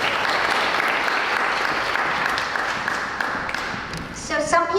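Audience applause at a community meeting, a loud wash of many hands clapping that thins out near the end as a voice starts speaking.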